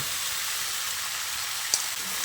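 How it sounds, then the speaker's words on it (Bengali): Chopped bottle gourd goes into a pan of masoor lentils frying in oil, giving a constant close sizzle with one faint clink against the pan. "এবার আমি এর মধ্যে কেটে রাখা লাউটাকে দিয়ে দিচ্ছি।"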